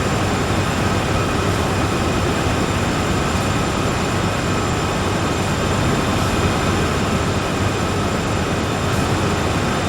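Train in Train Sim World 4 rolling uphill out of Cheyenne at about 20 mph, heard from outside as a dense, steady rumbling roar with constant broadband noise and faint tonal hum, no talk.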